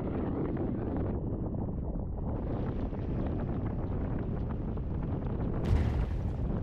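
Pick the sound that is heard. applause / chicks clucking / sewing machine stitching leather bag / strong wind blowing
strong wind blowing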